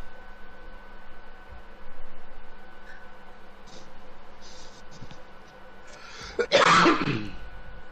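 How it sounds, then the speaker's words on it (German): A person clears the throat and coughs near the microphone, with a few short throaty sounds followed by one louder, harsher cough burst toward the end over a low background hum. "Der Husten ist immer noch nicht weg bei dir"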